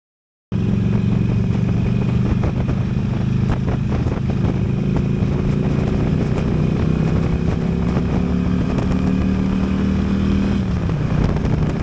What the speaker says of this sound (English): So that 1450 engine is a peach